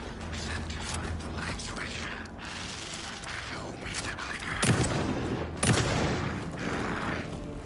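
Weapon reloading in the survival horror game Alan Wake 2: clicking, ratcheting mechanical clacks with a couple of sharper metallic snaps, set against a busy game soundscape.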